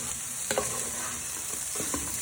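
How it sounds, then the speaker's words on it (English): Sausages tossed with onions and garlic in a hot pan for a casserole, a steady sizzle running throughout with a couple of short stirring scrapes and clatters, close and on its own. "you want to give them a good toss with your onions and garlic for a few minutes"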